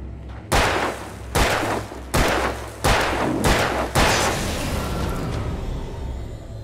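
Gunshots in the video game Alan Wake Remastered: six loud, closely spaced blasts, each with a booming echoing tail, followed by a fading rumble.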